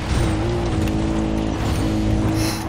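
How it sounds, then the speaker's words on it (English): Quad bike racing along in the video game Far Cry 3, a steady, loud engine drone with layered harmonic whine holding throughout, close and continuous with no talk over it. "I think my quad's faster than your vehicle."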